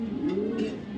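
A pigeon of a high-quality foreign breed coos in a low, steady, throaty warble for the full second, close to the microphone, with no talking.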